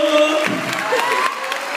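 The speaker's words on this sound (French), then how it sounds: "on peut l'applaudir." Crowd at the Aladdin film premiere with Kev Adams, a loud burst of cheering and applause mixed with shouts and voices, dense and close throughout the short stretch.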